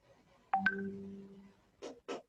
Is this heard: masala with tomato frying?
no